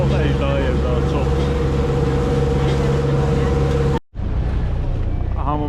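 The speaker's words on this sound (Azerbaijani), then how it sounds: "Hamı burada qayıq sürür." A boat engine drones loud and steady up close on a lagoon near El Nido in the Philippines, with a brief cut and then a continuing motor hum and water noise.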